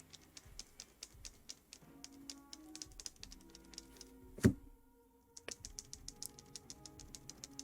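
Typing on a mechanical keyboard with SA or GMK keycaps during a Freebird60 build: a steady run of quick, crisp clacks, close and clear, with a brief pause and one louder thud in the middle.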